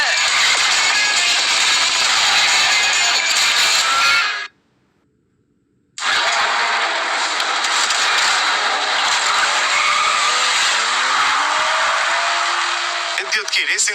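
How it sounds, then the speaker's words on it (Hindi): A racing car driven fast on a dangerous hill track, loud engine whine with tire squeal and skidding, broken by about a second and a half of silence before resuming, with talk underneath. "इतने खतरनाक ट्रैक पर भी वो मक्खन की तरह गाड़ी चला रहा है।"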